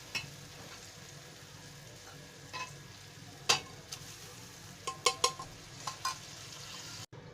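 Quiet sizzling of tadka dal as boiled lentils are stirred in a pan, with occasional soft scraping and clinks of a spoon, close and faint, no voices.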